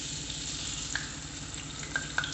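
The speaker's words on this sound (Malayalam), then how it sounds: "രണ്ട് വശം തിരിച്ച് മറിച്ചിട്ട് നന്നായിട്ടൊന്ന് ഫ്രൈ ആക്കി എടുത്താൽ മതി" Chana dal sukhiyan frying in hot oil gives a steady, even sizzle with a few sharp crackles and pops, close and continuous with no talk.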